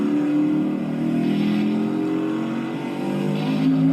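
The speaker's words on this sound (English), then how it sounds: "The big problem with the sounds of these stock cars is that you can clearly tell that it's looping." A Ford Fusion stock car engine in the video game Project Cars 2 hums and revs steadily at mid pitch, looping without a break, with no talk.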